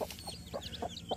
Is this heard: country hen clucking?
yes